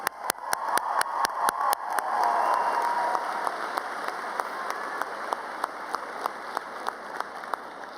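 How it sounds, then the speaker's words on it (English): Applause for graduating student parents at a community college commencement, a broad wash of many hands from the audience, with sharp, regular claps standing out near the start and at intervals as the ovation continues steadily. "Let's give these super parent graduates another round of applause."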